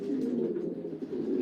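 Racing pigeons coo steadily and close by while being basketed for a race at Honiton, a continuous low, throaty warble with no voices.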